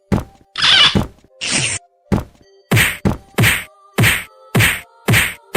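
A rapid series of loud whacks and thwacks from a beating in an animated comedy: a ghost aboard a haunted bus is thrashed in a one-sided fight. Around nine sharp blows land close up in a steady rhythm, with no talking.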